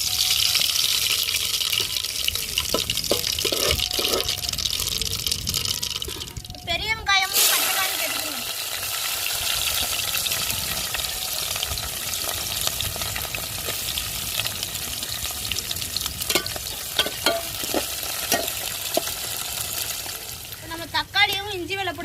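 Curry masala for a Tamil chicken curry hits hot oil in a pan with a loud, continuous close-up sizzle, flaring sharply at one point, while a person talks over the cooking.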